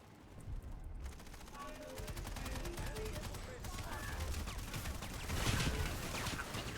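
Rapid automatic weapon fire in the online shooter PlanetSide rattles almost continuously in fast, even bursts, fairly quiet overall and swelling near the end, with a voice talking over it.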